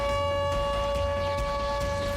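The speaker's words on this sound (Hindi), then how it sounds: "पूरे शहर में सायरन के शोर से लोग सहमे हुए हैं।" An air raid siren wails over Kyiv during wartime, a steady tonal drone holding one sustained pitch throughout, loud and continuous.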